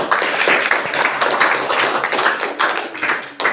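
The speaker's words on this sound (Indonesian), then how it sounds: "silakan tepuk tangan untuk kelompok 5" A class of students claps for a group after its presentation, a close, loud run of quick uneven hand claps that pulses in bursts and goes on throughout.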